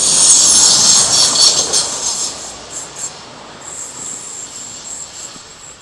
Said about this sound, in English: Oh look, train.